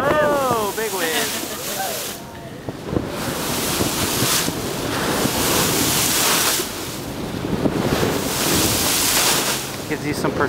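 Big ocean waves at the mouth of Milford Sound heard from a sailing boat: a continuous loud roar of surf and rushing water with heavy wind buffeting the microphone, and a brief voice near the start.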